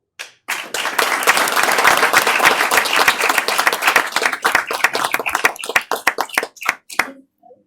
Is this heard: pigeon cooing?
no